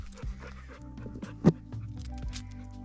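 A mountain dog pants steadily close by on a UTV trip in the mountains, with quick rhythmic breaths and one louder huff midway.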